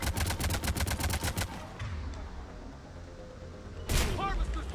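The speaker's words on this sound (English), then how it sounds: "Harvester's firing on the Turians!" Rapid bursts of heavy automatic fire from a Harvester shooting at Turians in Mass Effect 3, a loud evenly spaced volley that stops, then a sharp blast and renewed rumbling.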